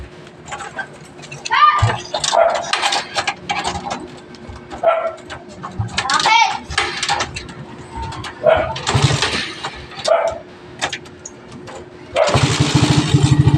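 A 206cc motorcycle engine is started and revs in a loud burst near the end, after a stretch of talking over a low idle.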